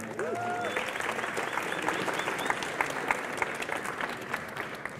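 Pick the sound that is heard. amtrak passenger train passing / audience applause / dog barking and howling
audience applause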